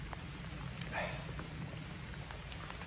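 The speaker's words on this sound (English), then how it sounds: "It is bloody pissing down with rain" Heavy rain pours down outdoors at a fishing spot, a steady close hiss lasting the whole moment with a brief louder patter near the middle.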